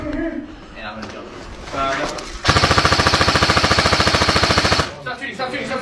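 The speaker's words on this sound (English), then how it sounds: "Stop shooting, stop shooting, stop shooting." Airsoft guns fire a long, rapid full-auto burst of evenly spaced, sharp mechanical pops at close range, lasting a couple of seconds. Shouting voices and scuffling come before and after it.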